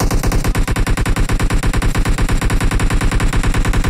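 Sustained full-auto fire from an M416 rifle in PUBG Mobile, a loud, close, evenly paced rattle of shots through the whole stretch with no pause.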